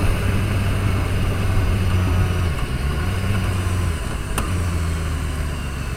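BMW S1000RR motorcycle at highway speed, a loud steady engine drone mixed with broadband wind rush, pitch holding mostly level with slight shifts, no voices.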